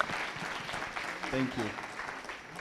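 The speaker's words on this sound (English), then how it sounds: "one or two people were clapping" A few people at the launch of a school leadership program in Rwanda clap sparsely, thin scattered applause in a room, with talking over it.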